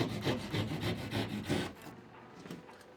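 Hand-cutting drywall along a marked line during bathroom wiring work, heard as a rapid series of close, rough rasping saw strokes for about two seconds, then a quieter pause with a couple of lighter scrapes.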